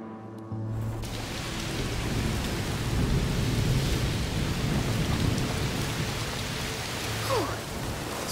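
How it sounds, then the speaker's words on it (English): Heavy rain pours steadily in A Plague Tale: Requiem, with thunder rumbling through the downpour and a sharper crack near the end, alongside a low game music drone. "Oh, it's raining a lot."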